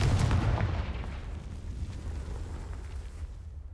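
A Confringo explosion spell goes off in Hogwarts Legacy, one heavy blast with a deep booming rumble that trails off and fades over a few seconds.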